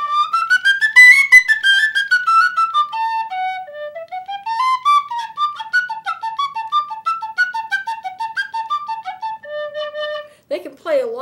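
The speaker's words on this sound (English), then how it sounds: "You have the penny whistles that are wooden plugged penny whistles." A wooden plugged penny whistle plays a clear, bright melody of many quick notes that rise and fall over about ten seconds, close and loud, ending with a brief breathy flourish.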